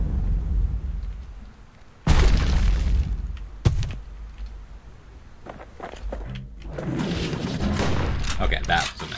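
Power-shot gunfire in the video game Bastion sounds as two loud, booming blasts a couple of seconds apart, set over dense game music and effects, with scattered smaller impacts afterward.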